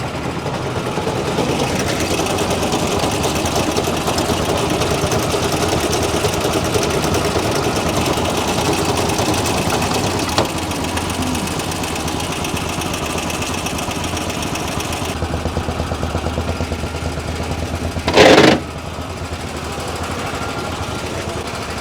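A farm machine that sat outside all winter runs with its belts turning, giving a steady, rough mechanical drone close by, with a brief sharp clatter near the end.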